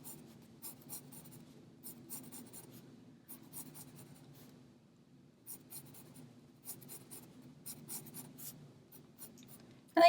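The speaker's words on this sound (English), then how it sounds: "we're going to draw lines coming down from the bottom of the wave" A pen or marker draws lines on paper while sketching a cupcake liner, giving quiet, close scratchy strokes in short repeated bursts with brief pauses between them.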